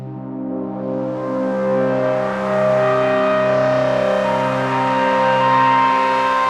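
A synth keys pad layer built in Bitwig, run through delay and a filter, swells as sustained, layered tones that slowly brighten and shimmer, smooth and steady with no talk.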